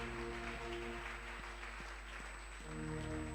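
Church congregation applauding during worship, a steady wash of clapping under sustained organ or keyboard chords, moderately distant and even throughout.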